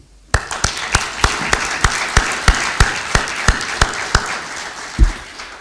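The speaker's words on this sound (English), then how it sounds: "you deserve all a big round of applause" An audience applauds at a formal address, sharp, regular claps close by ringing out over a softer wash of scattered clapping, starting abruptly and tapering near the end.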